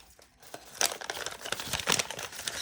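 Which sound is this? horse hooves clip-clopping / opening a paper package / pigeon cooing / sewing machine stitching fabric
opening a paper package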